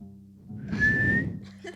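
A person whistles a short, steady high note lasting under a second, close and fairly loud against a quiet room with faint low background noise.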